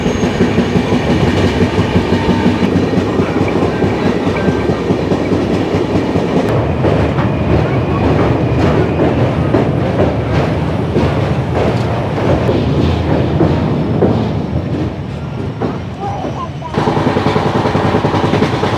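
A Bihar Sampark Kranti superfast express rumbles along the track, heard from inside a coach as a loud, continuous roar with rhythmic clickety-clack. There is a brief quieter stretch near the end before the full noise returns.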